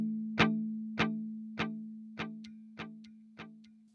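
Repeated plucked guitar notes run through a digital delay pedal, the Underdog Chuck. Six evenly spaced strikes with decaying echoes sustain a steady low tone, each repeat slightly quieter, close and clean with no talk.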